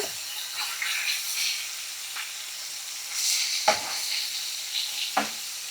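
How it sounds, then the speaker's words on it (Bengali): Hilsa fish frying on high flame in very hot, bubbling oil, a steady close sizzle with a few sharp spatters and stirring clicks standing out. "তেল কিন্তু অনেক বেশি গরম তেল ফুটতেছে"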